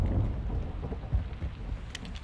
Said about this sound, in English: Rain's good, it'll cover your tracks.